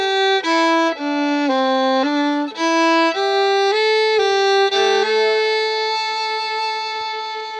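Solo old-time fiddle plays the A part phrases of Yew Piney Mountain straight through, close and steady, with a string of bowed notes that descend and rise before settling on a long ringing final tone.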